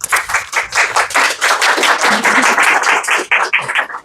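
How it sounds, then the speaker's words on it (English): Loud, close clapping from a studio audience greeting a guest, a dense run of individual claps that rises quickly and holds steady before thinning toward the end. "Can we give her a round of applause?"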